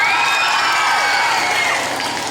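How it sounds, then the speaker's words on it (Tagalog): An audience for Gretchen Barretto, announced as the original Victoria of Magkaribal, claps and cheers in a dense, close wash of applause that fades slightly at the end. "Halina't sabay-sabay po natin palakpakan at sigawan, binibining Gretchen Parejo."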